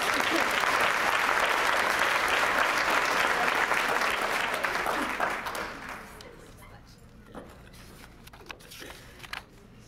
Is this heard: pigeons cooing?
no